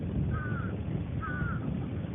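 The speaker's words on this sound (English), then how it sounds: "so it's a lot of birds. It's a lot of birds." Crows cawing outdoors, two drawn-out caws about a second apart over a steady, noisy background hum, at moderate distance with no talking.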